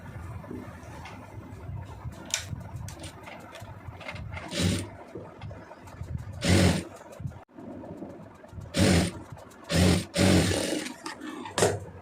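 A sewing machine stitches a folded fabric band in short, separate bursts of loud whirring, with quiet gaps of fabric handling between runs.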